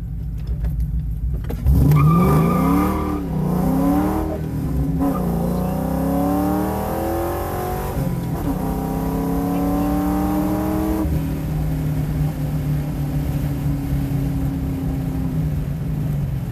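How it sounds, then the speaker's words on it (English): A 2001 Ford Mustang GT with full bolt-ons launches on a drag run, its V8 roaring close and loud as it revs up through several gear changes, each shift dropping the pitch before it climbs again. "I will show you guys some draggy runs on a 2001 Ford Mustang GT full bolt-ons"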